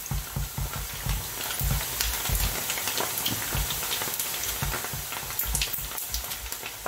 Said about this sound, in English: And now, fry.